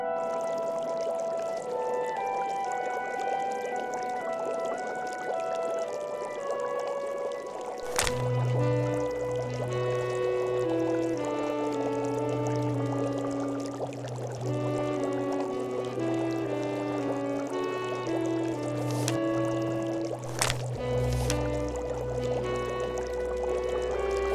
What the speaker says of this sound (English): I should click on the teapot so I can pour the tea into a cup